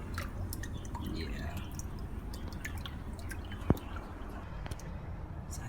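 Water trickles down a tile wall into a turtle pond, a soft steady splashing with scattered drips and one sharper plink, quiet and close with no voices.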